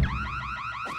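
A car alarm going off in a Flemish comedy trailer, a loud rising and falling electronic siren sweeping repeatedly, close and alone.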